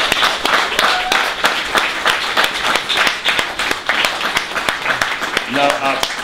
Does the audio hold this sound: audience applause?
yes